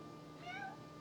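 A cat gives one short, faint meow midway through, somewhat distant in a quiet indoor room.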